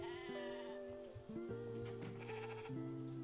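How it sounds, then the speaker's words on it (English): Several sheep in the video game Discounty bleat in quick succession, their wavering calls overlapping, fairly close and clear with a faint synthetic, game-like quality. "Sheep."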